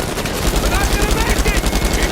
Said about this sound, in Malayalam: അവൻ മറ്റേ ഷീൽഡിൻ്റെ ബാക്കിൽ നിന്നാണ് വെടിവെക്കുന്നത്